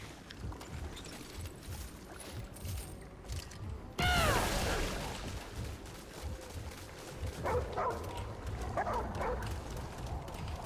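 In Remnant: From the Ashes, a dog barks and yips in a few short, mid-loud bursts over mechanical background noise and game ambience.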